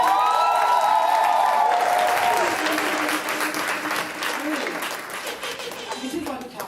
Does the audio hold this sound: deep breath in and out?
no